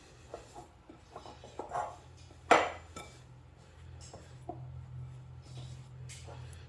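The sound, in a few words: mixing lard pie crust dough in a bowl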